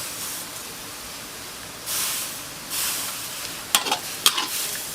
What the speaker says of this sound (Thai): คนนะคะ ทุกอย่างให้เข้ากัน ให้ต้นหอมสลดนิดนึงนะคะ